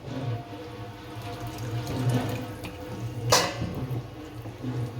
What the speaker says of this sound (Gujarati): આમાં સેજ પાણી નાખશું.